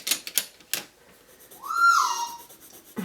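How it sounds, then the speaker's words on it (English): A few sharp clicks, then a parrot gives a loud, rising-and-falling whistled call, close by, followed by a short chirp. "sorry my parrot again, I don't know if you can hear her"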